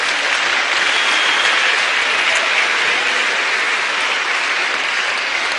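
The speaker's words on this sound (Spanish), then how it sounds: "Dele un aplauso al Rey bendito." A church congregation bursts into loud, continuous applause during a pastors' gathering, a thick uniform roar of clapping held at steady strength for several seconds with no voices over it.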